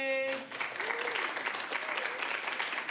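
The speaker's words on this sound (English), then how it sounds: "clap loudest for the director you want to see" Improv comedy audience claps loudly to vote for their favourite director, with steady, dense applause and crowd noise and some voices mixed in.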